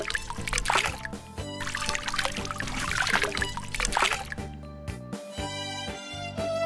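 Water poured in repeated splashing streams, trickling and splattering close by, with brief pauses between pours.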